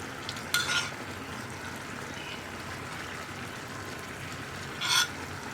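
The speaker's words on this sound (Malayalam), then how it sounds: "ഇതൊന്ന് ഇളക്കി മിക്സ് ചെയ്യാം." A rice flour and milk mixture for banana kozhukkatta is stirred in a pan, a faint soft bubbling and scraping with two brief louder clinks of the spoon against the pan, no talking.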